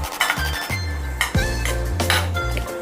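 Chopped vegetables for a homemade pizza sandwich are stirred together in a bowl, with a spoon clinking and scraping against the dish in a few distinct knocks, close and clear with no talking.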